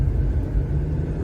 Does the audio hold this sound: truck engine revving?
yes